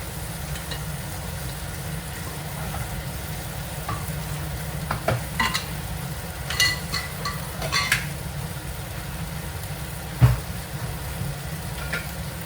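Slit green chillies hitting hot spiced oil in a pan while cooking Bengali hilsa fish curry, a continuous soft sizzle with scattered sharper crackles and pops and a few stirring scrapes, no voices.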